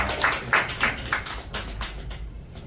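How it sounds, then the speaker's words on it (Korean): An audience gives a lecturer a welcome for a talk on the Dangun Wanggeom opera. A few sharp, close hand claps come first, then fainter scattered clapping that fades out. "큰 박수를 맞아주시면 고맙겠습니다"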